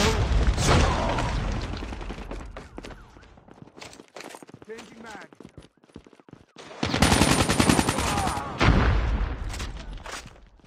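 Frag grenade blast and bursts of gunfire in Call of Duty Mobile, loud sharp reports in clusters with a heavy boom near the end, under game voice callouts.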